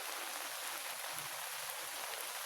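Rain falls in a steady, quiet hiss, faint and unbroken throughout, with no voices.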